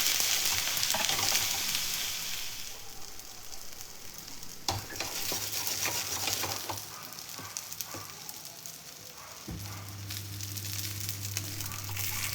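Pork spareribs sear in a frying pan with a strong, steady sizzle. A sharp clatter comes when they are turned over, then the frying goes on with a low hum underneath.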